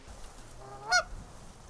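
A single honk from a Canada goose during a goose hunt outdoors, one short, clear call rising out of quiet background noise, moderately distant.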